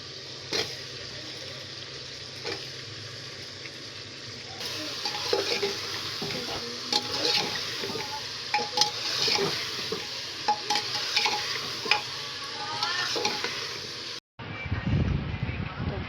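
Vegetables tossed into fried masala in a home kitchen pan, stirred with a utensil that scrapes and clinks against the metal amid steady sizzling, with brief clatters; a final loud burst of frying follows a short pause.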